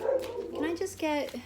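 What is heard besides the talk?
dog barking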